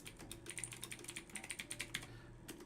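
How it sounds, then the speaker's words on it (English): Quick, light keystrokes on a computer keyboard as a command is typed at a Linux terminal, a close, quiet run of irregular clicks with a few brief pauses. "we're typing it in every time"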